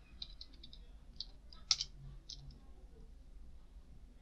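Soft clicking keystrokes on a computer keyboard as a web address is typed into a browser bar, a short irregular run of taps and one sharper click, faint against low room hum.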